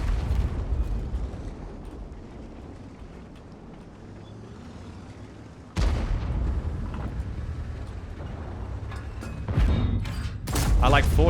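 Chinese tank cannons firing in World of Tanks: a sudden loud blast cuts through engine rumble midway, followed by further booming shots near the end, with a voice talking over the battle.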